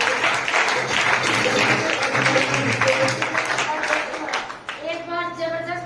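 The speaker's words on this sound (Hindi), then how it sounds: "इससे भी जबरदस्त तालियां" An audience claps loudly and continuously at a business gathering, with someone speaking over the applause as it gradually thins out toward the end.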